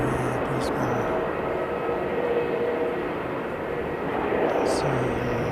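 Air New Zealand flight NZ203, an airliner departing Christchurch for Brisbane, gives a steady, loud engine roar that holds throughout, with faint voices and brief clicks now and then in the background.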